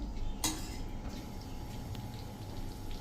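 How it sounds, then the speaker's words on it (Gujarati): A utensil stirring drumstick (moringa) sabji in a pan gives one sharp metallic clink early on, then soft, quiet scraping and shuffling sounds. "તો હવે આને આપણે 1 જ મિનિટ આ રીતે સરગવા સાથે હલાવી લેશું."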